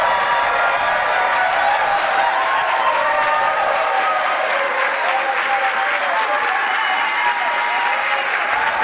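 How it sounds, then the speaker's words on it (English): Loud, sustained applause from a large audience at a closing ceremony, a dense roar of clapping mixed with some cheering that stays strong and even from start to finish. "please show them how much you appreciate them with some room-shaking applause to"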